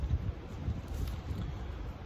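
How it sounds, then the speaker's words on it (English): Steady low rumbling wind buffeting the microphone on a windy, rainy day, a continuous roar with no voices. "it's a windy day. Windy and rainy."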